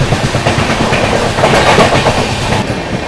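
The Gorakhdham Superfast Express runs flat out at 130 km/h, a loud, steady roar with rapid clickety-clack of wheels over rail joints, heard close from on board with no voices.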